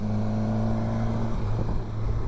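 A two-cylinder motorcycle held flat out on a Pyrenees mountain road, a steady loud drone with a sustained engine tone that shifts pitch slightly partway through, with no voices.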